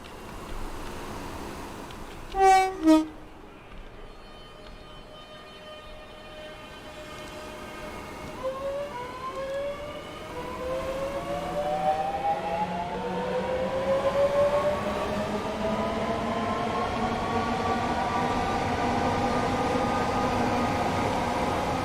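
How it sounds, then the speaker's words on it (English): A Networker electric train in Train Sim World 3 pulls away from a station, beginning with a short two-tone horn blast. Its motor whine then rises steadily in pitch as the train gathers speed, a continuous hum with no talking. "I'll let you listen to the sounds on the train."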